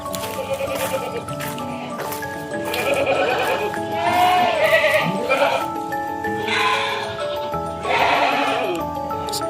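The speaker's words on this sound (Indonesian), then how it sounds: "ini juga ini ada kambing ternak lagi ya, karena di sini banyak sekali" Goats at a village farm in rural Central Java bleat repeatedly, several calls overlapping near and loud across the span, with some faint background activity.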